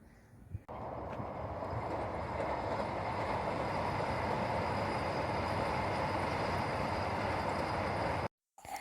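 A train passes close by as a loud, steady rumble of wheels on rails that holds for about eight seconds before cutting off abruptly, with no talking.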